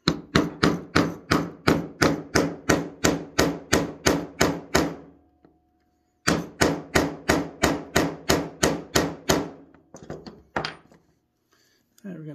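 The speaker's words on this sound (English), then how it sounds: "twist the punch as you hit on it." Hammer blows striking a punch to set a snap on a leather knife sheath: two runs of about a dozen rapid, even, sharp strikes separated by a pause, followed by a few lighter taps.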